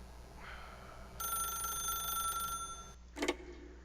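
A telephone rings in the video game The Stanley Parable, a bright electronic trill that runs for over a second, stops, then comes back as a short burst, heard alone over low background hum.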